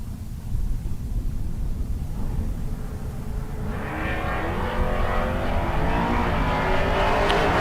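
Drag race between a Pontiac Firebird and a Plymouth Barracuda: a low engine rumble swells into a loud, rising roar as the cars launch and pull away down the strip.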